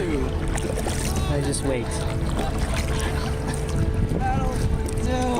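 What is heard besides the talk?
kayak being paddled on water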